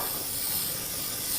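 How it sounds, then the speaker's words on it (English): Cooking oil spray is spritzed into a cake pan in a steady, close hiss lasting over a second with no pause. "spritz this with some oil because we don't want this to stick"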